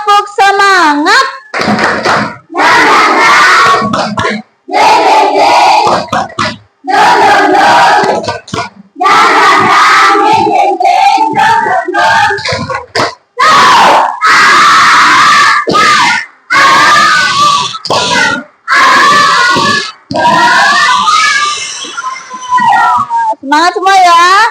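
A fourth-grade primary school class performs a rhythmic spirit clap, loud bursts of clapping and shouted chanting in short regular phrases separated by brief pauses.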